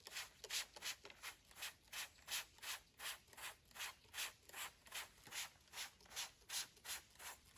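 Wet sandpaper worked over a surface down to the fiberglass layer, with steady, evenly paced back-and-forth strokes, about two per second, producing a soft rhythmic scrubbing hiss close by and alone.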